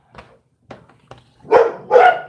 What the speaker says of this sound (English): oh my goodness, my dog.